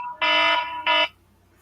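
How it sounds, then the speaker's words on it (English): An oven cooking timer alarm gives two loud, close electronic beeps, the first longer than the second, with a short gap between them, then stops. No talking is heard. "That was my alarm."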